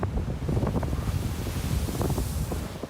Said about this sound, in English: Strong winds led to battering waves.